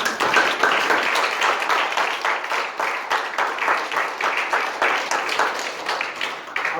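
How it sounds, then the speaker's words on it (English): An audience at a youth economy workshop in Bosnia claps for someone: dense, lively applause from a room of people, loud and sustained with brisk, uneven hand claps throughout and no speech. "And she deserves clap from all of us."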